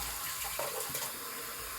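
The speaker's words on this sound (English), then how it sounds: "get some water in the sink" Tap water runs steadily into a bathroom sink as it fills before a shave, a soft, even splashing hiss heard alone and close.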